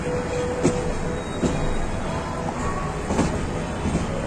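The Dhaka Mail, a passenger train on the Chittagong to Dhaka route, heard from a non-AC cabin passing Dhaka Cantonment station: a steady low rumble with periodic rail clicks and knocks, fairly quiet, no talk.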